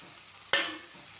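Spice powder being stirred into frying onions, a single sharp scrape of a spoon over a soft background sizzle, fading quickly.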